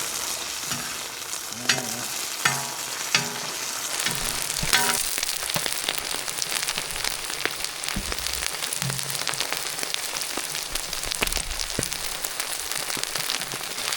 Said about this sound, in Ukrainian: грибочки наші вже гарненько піджарилися, влага з них вийшла